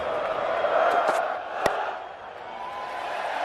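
A large cricket crowd at a Twenty20 match between England and Australia in Birmingham, a broad roar of voices and chanting that swells and eases, with one sharp crack near the middle.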